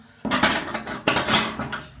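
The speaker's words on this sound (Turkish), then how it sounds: "Bulaşıkları yerleştiriyorum." Dishes being put away in a home kitchen: two bursts of clattering plates and cutlery, close and fairly loud, over about two seconds.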